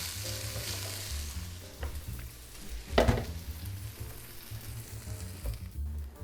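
Rice stirs and fries in a pan for Hainanese chicken rice. A continuous sizzle runs under repeated scraping strokes, with one louder clatter near the middle.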